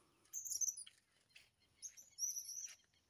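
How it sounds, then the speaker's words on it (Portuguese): Wild birds chirp and sing in the dry backcountry of the Brazilian sertão, with bright, high calls arriving in two lively bursts separated by a brief near-quiet pause; there is no talking. "A gente é só ir curtindo o canto dos pássaros, ó."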